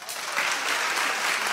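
An audience at a drag show premiere bursts into a short, dense round of clapping, many hands together, loud and continuous for a second and a half.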